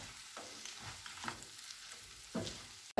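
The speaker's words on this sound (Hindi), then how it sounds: "अब इसमें रोस्टेड पोटैटो डाल देंगे। इन्हें अच्छे से मिक्स कर लेंगे।" Roasted potatoes are tossed and mixed in a hot pan, with a few soft scraping strokes and a faint sizzle, quiet and close, ending in a sharp knock.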